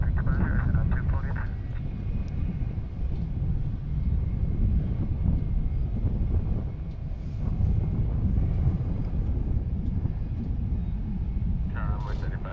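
A heavy airliner departing DFW International Airport bound for Seattle, heard as a steady, loud, broadband engine roar that holds for the whole stretch, with no talk.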